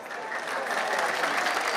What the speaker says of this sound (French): Mambo Evoni est la plus applaudie.